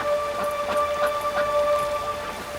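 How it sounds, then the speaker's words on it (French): Steady rain pours from a rain-making machine, making an even, continuous hiss of falling water with a few faint tonal hums underneath and no voices. "Avec la machine à faire pleuvoir, on n'aura plus jamais de sécheresse."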